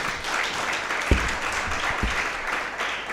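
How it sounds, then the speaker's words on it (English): Audience applause at a product launch event, a steady wash of clapping from a crowd with a few louder thumps, sustained throughout. "A bigger round of applause."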